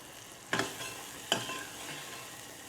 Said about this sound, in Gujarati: તો હવે આપણે રાઈ જીરાનો વઘાર કર્યો છે અને બધો મસાલો તેમાં નાખી દેવાનો છે